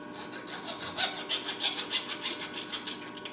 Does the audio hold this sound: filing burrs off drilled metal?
yes